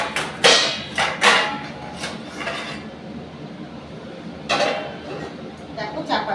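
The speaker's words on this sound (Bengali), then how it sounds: "চাপা দেওয়ার জন্য একটা প্লেট নিয়ে নেবো" A plate is set over a cooking pan as a lid, giving a few sharp ceramic-on-metal clinks and knocks near the start and again later, while someone talks in between.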